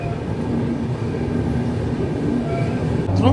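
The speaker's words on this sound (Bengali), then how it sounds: "5:06 আমাদের ট্রেন ধানবাদ জংশন থেকে ছেড়ে দিচ্ছে।" A steady low rumble of the Jammu Tawi Express rolling on rails as it departs Dhanbad Junction, heard from a 3rd AC coach, constant and close, with a heavier lurch of noise right at the end.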